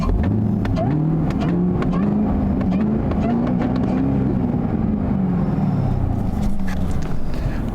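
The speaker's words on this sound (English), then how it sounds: "you got the blower whine. I don't know if you can hear it." A Chevrolet Camaro ZL1 engine drones loudly and continuously as the car accelerates, with a rising and falling supercharger whine running through the roar.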